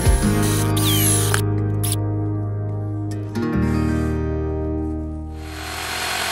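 A 2.5-inch doorknob hole cutter bores through wood for a charcuterie board handle, a loud steady whine that drops in pitch partway through as the bit bites, with brief gaps and no talking.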